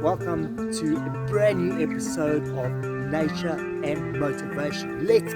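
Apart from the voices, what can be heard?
No everyday noise stands out behind the speech.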